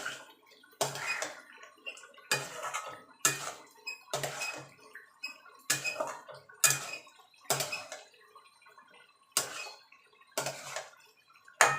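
Chicken is sautéed in a pot with a spoon stirring it, giving a slow, regular series of scraping clinks, each about a second apart, fairly quiet and close.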